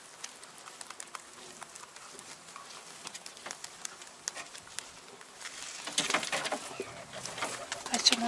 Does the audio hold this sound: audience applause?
no